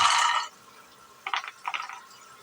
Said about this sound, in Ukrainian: Заливаю бублики холодною водою